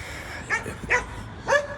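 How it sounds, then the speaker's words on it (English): A dog barks three times in sharp, fairly close bursts spaced roughly half a second apart, standing out clearly against a quiet background with no talking over it. "Jesus Christ, that dog scared me."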